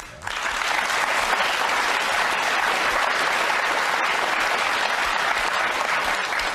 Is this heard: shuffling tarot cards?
no